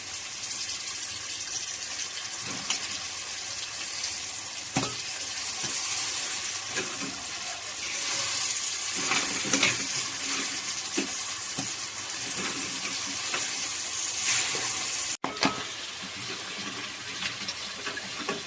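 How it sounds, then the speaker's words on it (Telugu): Crab pieces, legs and claws go into a hot pan for a Telugu-style crab curry (peethala iguru), setting off a steady sizzle and frying hiss with occasional stirring clatters, close and fairly loud, with no one talking. "ముక్కలు కూడా మగ్గిపోయినాయి కదా పీతలు వేసేయాలి"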